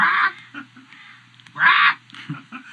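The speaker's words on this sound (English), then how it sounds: "I think it's picking up your birds." A pet bird calls from an upstairs room of a house, giving two loud honking squawks separated by quieter chatter, with no talking.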